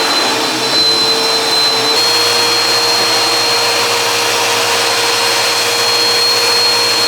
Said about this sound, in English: So I got the vacuum cleaner out and I'm gonna vacuum right around here and try to get the rest of it up.